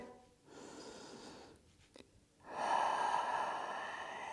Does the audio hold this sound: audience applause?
no